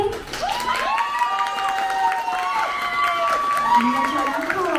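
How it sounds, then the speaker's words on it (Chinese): Wedding guests at a banquet cheer, scream and applaud as the newlyweds enter, a loud sustained crowd roar with high shrieks rising and falling over steady clapping throughout. "现在希望你们能够拿出今天最高最高的尖叫声以及掌声来欢迎我们的新人正式进场"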